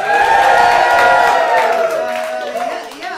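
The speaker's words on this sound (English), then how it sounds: "Make some noise if you like money." An improv comedy audience cheers and shouts, a loud sustained crowd roar with whoops and scattered voices and a little clapping, fading slightly toward the end.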